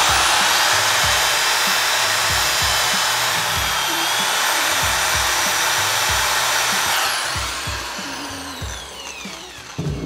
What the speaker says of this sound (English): drill a little hole so I can actually get to it